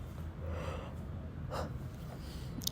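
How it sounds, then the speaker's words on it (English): A person yawns while reading aloud, a long breathy gasping inhale and exhale close to the microphone, with faint snorting breath and no words spoken. "reading makes me yawn"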